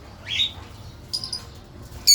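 A few short, high-pitched chirps and squeaks from caged yellow ringneck parakeets ring out close by in brief bursts against a quiet background.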